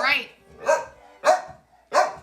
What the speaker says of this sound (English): a noisy dog who may need to go out